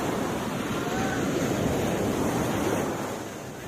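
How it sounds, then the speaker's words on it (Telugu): Sea waves roll and wash continuously at Singarayakonda Pakala beach, a broad steady roar mixed with wind buffeting the microphone, easing slightly toward the end. "ఇదిగో సముద్రం చూడండి ఎట్టుందో"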